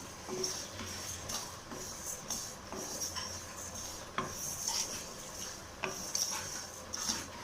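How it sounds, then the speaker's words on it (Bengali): Cumin and fennel seeds are lightly fried in a pan, giving faint scraping and stirring clicks with a soft sizzle, close and quiet, with no talk. "এবার আমি এটাকে একটু ভেজে নেব।"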